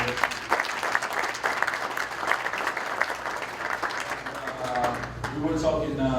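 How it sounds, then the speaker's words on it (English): An audience applauds a former Temple basketball player at an honor ceremony, dense sustained clapping that holds steady, then thins as a voice starts talking near the end. "Big applause for one of the best players I played at Tampa."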